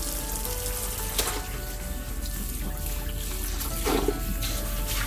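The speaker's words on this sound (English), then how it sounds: "Rinsing my basin and filling it with fresh water." Running tap water fills and rinses a kitchen basin used for washing chicken, a steady close hiss and trickle with a brief knock or splash near the end, no voices.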